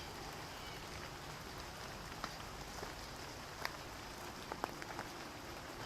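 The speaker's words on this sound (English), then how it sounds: "we are getting a little bit of rain" Light rain pattering faintly and steadily on a morning hiking trail, soft continuous hiss with a few scattered close drips and taps, no voices.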